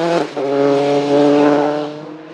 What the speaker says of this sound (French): Ludovic Chollet n'a rien lâché sur sa Dallara F308 à moteur Mercedes